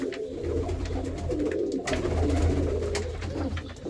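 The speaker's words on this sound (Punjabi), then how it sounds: "ਆ ਦੇਖੋ ਰੰਗ ਦੇਖੋ ਕਬੂਤਰਾਂ ਦੇ" Pigeons coo at a loft where fancy flying pigeons are kept in pairs, a steady low murmuring that runs continuously and close by without any talk.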